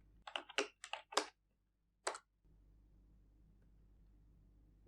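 A quick run of crisp keystrokes on a computer keyboard while a Linux terminal command is typed, then a lone final press of Enter, close and clear against near silence.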